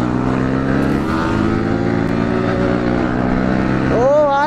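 Motorcycles rev hard in an informal drag race between a Suzuki Gixxer and an Apache V3S, a loud sustained engine drone with shifting harmonics and a rising whine near the end.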